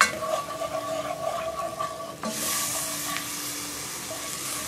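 Steaks stirred with beef stock in a frying pan, a continuous sizzle and bubbling with faint scraping, swelling into a louder, brighter hiss halfway through as the pan is stirred, close and without talk.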